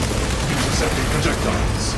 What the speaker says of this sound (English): Fragmentation grenade!